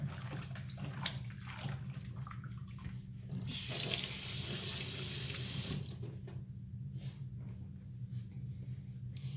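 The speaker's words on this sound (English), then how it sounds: "Let me give my hands a quick wash here." Hands being washed under a running kitchen tap, a close steady rush of water that swells louder for about two seconds in the middle, then settles back to a softer flow, with a low hum underneath.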